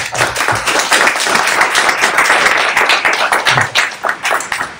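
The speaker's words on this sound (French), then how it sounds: "Et on peut les applaudir." An audience at a marketing breakfast event clapping for the speakers, a brisk burst of many hands that stays loud and dense for a few seconds, then thins slightly toward the end.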